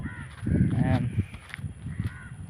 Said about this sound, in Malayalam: ഇപ്പോൾ നിറയെ കൊക്കുകളും കാക്കകളും ഒക്കെ ഉണ്ട്